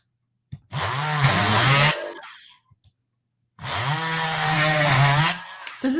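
A small power drill bores a hole through a polymer clay piece, running in two steady whining bursts of about a second and two seconds, close and loud, with a brief quiet gap between them.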